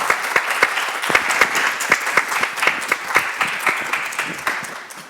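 An audience at a Black HIV/AIDS awareness day event claps steadily, a dense close patter of hands with sharp individual claps standing out, fading slightly toward the end.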